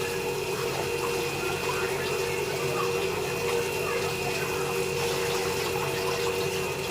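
Steady running tap water pours over vegetables being washed in a home kitchen, a constant close wash of sound with no talking.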